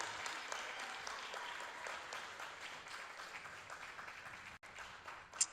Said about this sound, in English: Can we give this panel an amazing round of applause, because they've done such an amazing work.